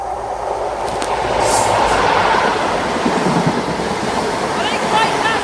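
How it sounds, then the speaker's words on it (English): A non-stop Plymouth to London Paddington passenger train rushes past at Dawlish on the Great Western Main Line, a loud, close roar of wheels with some rhythmic clatter and faint squeal throughout. "This is a non-stop service to London Paddington from Plymouth."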